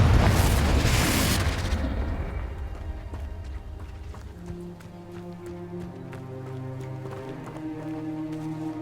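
A loud Confringo blast spell explosion opens the scene in Hogwarts Legacy, a broad booming burst that fades over a couple of seconds. It gives way to quieter tonal game music.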